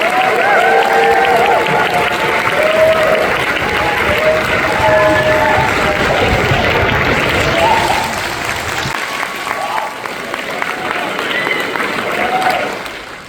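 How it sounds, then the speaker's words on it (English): An audience at a BeyondFest screening of The Fall gives sustained applause to welcome director Tarsem Singh, loud and steady at first, with someone speaking over it. The applause then thins and fades toward the end. "Let's keep the applause going and welcome our director"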